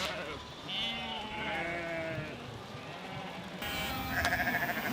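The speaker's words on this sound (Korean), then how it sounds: "역시나 도로에서 수많은 양떼와 만났다." A large flock of sheep bleats repeatedly on a mountain road in Georgia's Caucasus region, many overlapping calls near and farther off over a steady outdoor background.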